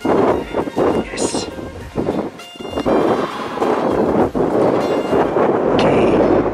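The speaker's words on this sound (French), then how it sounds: "Pas mal de vent aujourd'hui." Strong wind buffets the microphone in heavy, uneven rumbling gusts on a mountain trail near Le Grand Bénare, Réunion, with a few brief voices and some high whistling tones mixed in.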